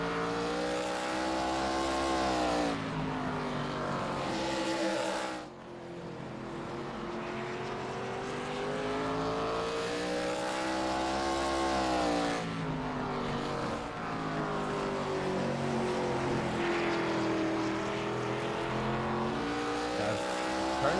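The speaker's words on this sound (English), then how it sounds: "Guys, turning some real fast laps." ARCA race cars lap North Wilkesboro, engines droning loudly and continuously with rising and falling pitch as they sweep around the oval, fading briefly between passes.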